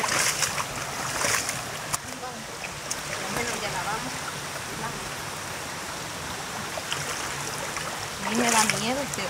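A river flowing steadily with a constant broadband rush of water, while voices talk intermittently over it nearby.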